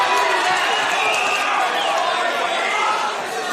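A packed boxing crowd roars continuously through a bout between Micah Rivetti and Owen Corrigan, a dense, loud wash of cheering and shouting that holds steady throughout, with voices mixed in.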